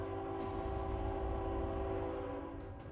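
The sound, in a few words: train passing in a video game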